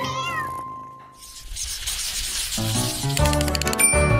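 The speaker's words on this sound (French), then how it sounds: "Et mon petit chat aime beaucoup se promener." A small cat gives a short, clear meow at the start, followed by busy clattering and bright tonal sounds in a home setting.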